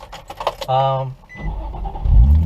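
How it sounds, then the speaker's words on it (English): A car engine is started: a brief whirring crank gives way to a low, rising rumble as it catches, close by, with a voice talking just before it. "I'll face you guys up there real quick while I start my car"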